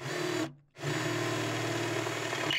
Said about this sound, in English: and just drilling the holes for it.